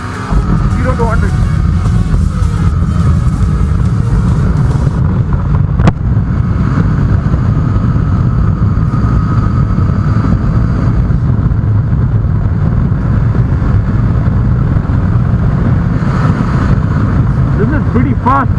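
A Benelli TRK 502 X motorcycle pulls hard from a standstill toward 100, its engine drone climbing under steady wind rush while the rider talks throughout.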